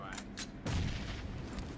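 A deep, booming blast erupts partway through, rumbling heavily in the low end amid a busy mix of PUBG Mobile game noise and gunfire-like crackle.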